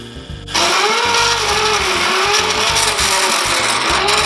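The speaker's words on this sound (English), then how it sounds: "start the lathe" A wood lathe spinning up and running steadily with a crown spiralling and texturing tool set near the work, a loud close motor hum with a pulsing, rhythmic rattle underneath.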